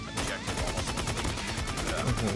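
Striker 45 gunfire in the mobile shooter Call of Duty: Mobile rattles in a fast, even stream of loud shots that fills the whole stretch.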